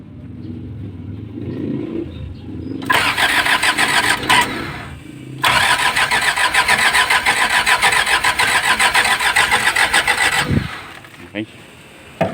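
An old Isuzu engine in a junked vehicle cranks and catches, then runs with a loud, steady mechanical clatter, briefly dropping out and restarting before settling into continuous running; voices talk faintly underneath.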